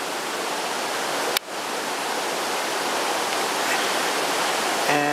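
A brook rushes steadily beside a hiking trail near Kinsman and Rocky Glen Falls, New Hampshire, a dense continuous wash of flowing water broken by one brief sharp knock partway through.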